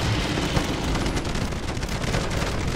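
Dense video game gunfire in Modern Warfare Zombies rattles on continuously from several weapons at once, a steady barrage of rapid shots and booms with no pauses.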